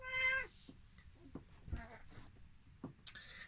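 Cat meowing: one clear, close meow at the start, followed by quieter scattered sounds and a brief high cry near the end.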